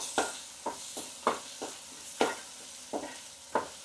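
A wooden spoon stirs a rice dish with egg in a pan, giving soft irregular scraping strokes, about a dozen in a few seconds, over a faint sizzle and with no talk.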